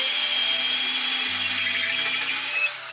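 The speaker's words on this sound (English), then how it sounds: "I got the long wood drill and I'm trying to" A long wood drill bores into a shovel handle with a steady high whine and grinding buzz that holds for several seconds, then cuts off abruptly at the end.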